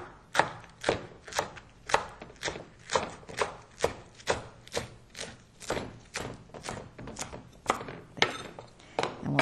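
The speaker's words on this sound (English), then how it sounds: "we're just going to roll this up and cut it in quarter-inch slices" A knife chops through rolled kale leaves on a cutting board in steady, evenly spaced strokes, roughly two per second, each a crisp near thud with a sharp leafy crunch.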